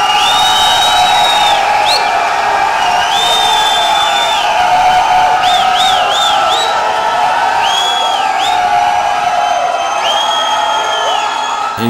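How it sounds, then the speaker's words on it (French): A crowd at a guitar-hero style show event cheers, whoops and applauds loudly and steadily, with high shouted voices rising above the noise throughout. "on applaudit, s'il vous plaît"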